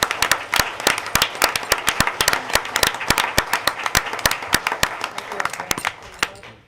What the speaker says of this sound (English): So we're going to cheer you once again